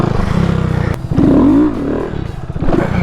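A Honda Grom motorcycle engine revs during wheelie practice, a close, loud motor whose pitch climbs and falls in one swelling sweep, with steady throttle blips around it.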